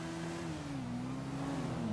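A Honda CB1000R motorcycle engine in GTA V hums steadily at moderate revs, its pitch dipping slightly and then rising again, a constant drone with no talk over it.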